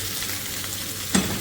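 Garlic and chopped tomato frying in a pan give a steady, close hiss of sizzling, with one brief sharper crackle near the end and no voices.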